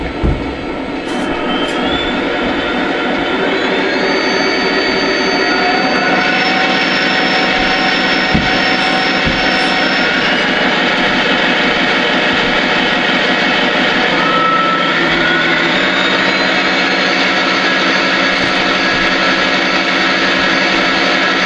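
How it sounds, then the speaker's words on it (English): A Lionel Legacy Heritage SD70ACe model diesel locomotive's sound system runs a loud, continuous diesel engine drone that steps up in pitch as the RPM notches climb, with no pauses throughout. "Next we'll give a listen to the diesel RPM sounds"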